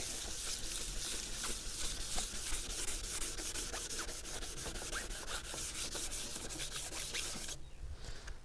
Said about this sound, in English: Let's see if we get some of this silicone off first.